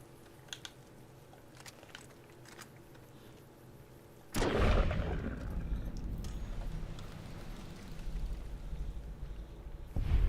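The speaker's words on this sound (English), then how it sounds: "Some good shooting there, dude." Fallout: New Vegas combat erupts with a sudden loud gunshot blast that leaves a sustained roaring rumble, after quieter clicking and tapping sounds, with another sharp shot at the very end.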